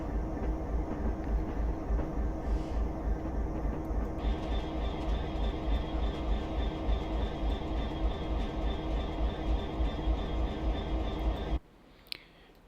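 Class 66 freight train in Train Simulator, a steady low diesel drone with a rail rumble running continuously and loud, then cutting out abruptly near the end.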